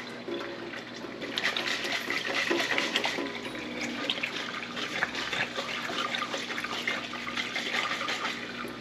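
Water sloshes and rinses over sprouting lentils in a jar covered with cheesecloth, a continuous close splashing that swells and fades as the jar is shaken, with no voices.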